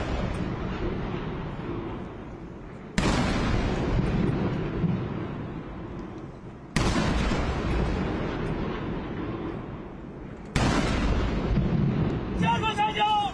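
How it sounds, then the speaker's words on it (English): A ceremonial artillery gun salute at a Chinese military parade booms four times at roughly four-second intervals. Each heavy, loud blast rolls out into a long reverberating decay across the open parade ground. "鸣礼炮。 Fire the guns."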